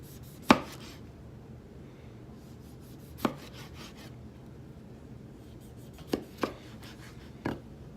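Vegetables being chopped small on a board for vegan chili, a handful of sharp, isolated knife thuds spaced irregularly over quiet room tone, close and fairly crisp.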